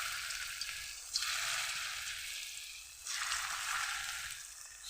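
Coriander leaf fritters sizzle steadily in hot oil, a continuous close frying hiss that swells louder twice as more batter goes in, with no talk.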